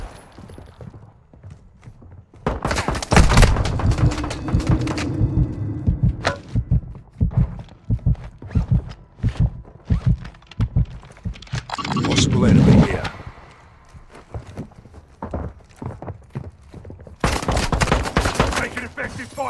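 Bursts of gunfire crackle through a combat game, loud clusters of rapid shots coming in repeated volleys with short gaps, mixed with shouted callouts from players talking over the firing.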